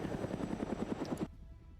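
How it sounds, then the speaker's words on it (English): Helicopters approach in the Arma 3 military game, a rapid thudding rotor chop with a distant engine whine that cuts off abruptly partway through. "you can faintly hear the choppers"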